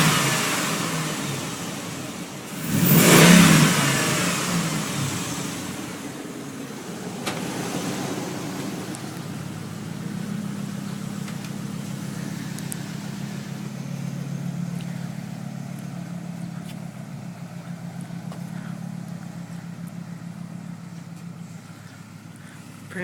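A Dodge Ram truck engine revs hard once near the start, then settles into a steady, low rumbling idle heard from close by for the rest of the stretch.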